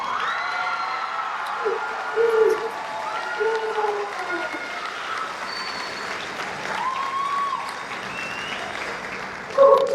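An audience at a valedictorian speech breaks into applause with cheers and whoops, a sustained dense clapping from a large crowd with scattered shouts rising and falling over about ten seconds.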